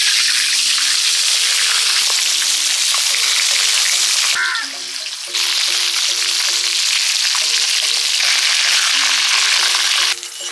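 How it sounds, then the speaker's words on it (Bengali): Loud, continuous sizzling of rohu fish with turmeric and salt frying in oil, with a short dip in the hiss midway and faint clicks and scrapes. "মাছ ভাজা হয়ে গেছে তুলে নিচ্ছি"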